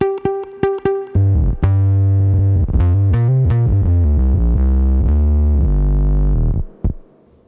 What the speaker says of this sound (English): This is the sound of the U235 suboctave generator.